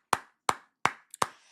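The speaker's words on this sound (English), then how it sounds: "Let's give him a round of applause." Four sharp, close hand claps in an even rhythm from a single person, each one crisp and briefly ringing, with no crowd and no talk.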